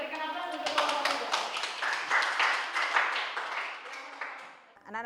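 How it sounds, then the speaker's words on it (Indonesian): A classroom of students claps for group 3 in a short, lively burst of applause. It starts right after a teacher's voice and fades out near the end. "Ya, kita berikan aplaus untuk kelompok 3."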